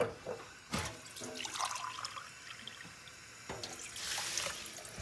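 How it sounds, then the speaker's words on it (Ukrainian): Tap water runs into a cup of rice, with a few splashy bursts and a steady fill near the end, close and fairly quiet. "Сюди висипаємо, набираємо води."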